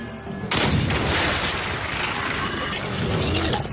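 Slow-motion gunfire from the World War II shooter game Wolfenstein: a heavy, booming shot lands after a short lead-in, then a long, dense rumbling tail stays loud to the end with no talking.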